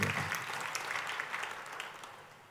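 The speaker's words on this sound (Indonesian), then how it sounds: "Ayo tepuk tangannya yang paling meriah buat Tuhan" A church congregation claps enthusiastically during a sermon. The dense, sustained applause starts loud and slowly tapers off over a few seconds, with no speech heard.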